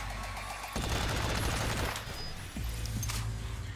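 Close-range machine pistol fire in the game Agents of Mayhem, loud continuous bursts layered over dense background game noise and a low engine-like rumble, with no talk.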